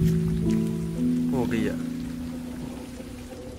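Heavy rain in a village near Gujranwala, Pakistan, giving a steady wash of noise beneath a voice and some tonal background sound. The rain fades a little toward the end.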